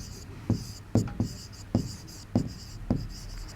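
Marker or chalk writing on a board during a maths lesson on common factors and co-prime numbers: a series of short, crisp strokes and taps at a fairly loud, close level, with no talk over them.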